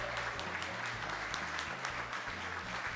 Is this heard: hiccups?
no